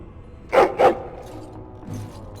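A dog gives two quick, close barks in succession, followed by a quieter low murmur and near silence.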